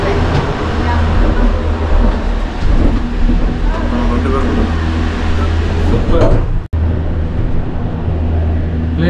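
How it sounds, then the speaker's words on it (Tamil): A cable car winch at Ba Na Hills in Vietnam starts up with a steady low mechanical rumble and hum that runs continuously, with one brief dropout late on. "நம்மளுடைய வின்ச்சு ஸ்டார்ட் ஆயிடுச்சு"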